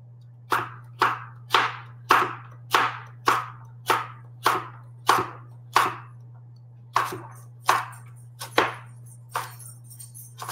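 Carrots being chopped on a cutting board with a knife, a steady series of about fifteen crisp, close knocks at an even pace over a constant low hum, with no voices.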